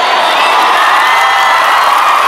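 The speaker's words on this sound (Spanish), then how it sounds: "Si quieren dos, aplaudan más fuerte." A large crowd at an outdoor fair concert claps and cheers loudly and continuously. Shouts and whoops from many voices blend into one dense roar.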